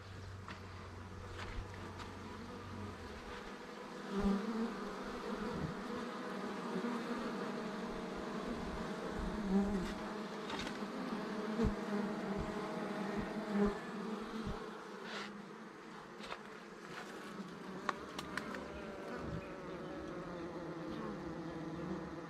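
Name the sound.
honeybees buzzing around an open top bar hive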